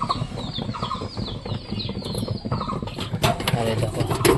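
Pigeons flap their wings in quick bursts as they flutter down to eat grain, close and fairly loud, with scattered soft bird calls between the wingbeats.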